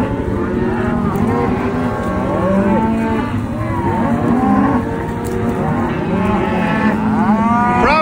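Cattle on a Wyoming cattle drive, cows separated from their calves, moo repeatedly and loudly, many overlapping calls near and far in a continuous chorus.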